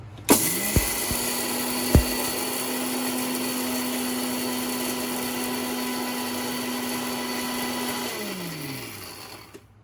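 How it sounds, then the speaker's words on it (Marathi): A kitchen mixer grinder spins up, holds a loud steady whine while grinding fenugreek seeds into fine powder, then winds down, with a couple of sharp clicks near the start. "मेथी पण किती बारीक करायची आहे बारीक बारीक बारीक पावडर"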